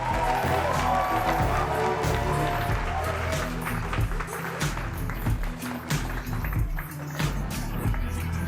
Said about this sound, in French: Applaudissez pour mes deux gars, s'il vous plaît